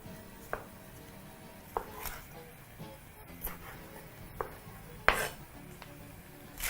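A knife strikes a cutting board in a few separate chops while boneless pork ribs are sliced, with sharp isolated knocks spaced a second or so apart in a quiet kitchen.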